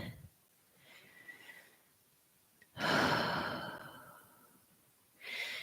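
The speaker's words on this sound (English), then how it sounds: "Breathing through." Heavy, strained breathing during a yoga calf stretch: a few long, loud exhales and inhales close to the microphone, separated by quiet pauses.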